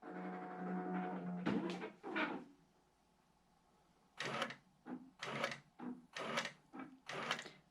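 A quilting sewing machine on a rolling rail frame: a motor hum, then a quiet gap, then a run of short, rhythmic stitching bursts that repeat at a steady pace, faint and close.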